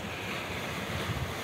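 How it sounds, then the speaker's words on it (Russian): Steady roar of sea surf and strong wind on the Crimean coast at Kiparisnoe, with continuous wind buffeting the microphone and no voices. "Здесь море."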